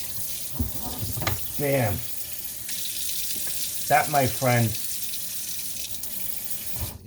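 Water running from a kitchen faucet after its aerator was cleaned and screwed back on, a steady hissing stream at good pressure, with someone talking over it.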